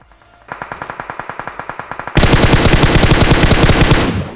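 Automatic gunfire in the mobile battle-royale game PUBG Mobile: a steady string of single rapid shots, then a much louder, denser sustained burst of full-auto fire that runs to the end.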